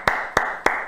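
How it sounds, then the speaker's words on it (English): A man named Ty claps slowly after an Arsenal loss, three sharp, evenly spaced hand claps close by with nothing else around them. "he's going to clap until we go home"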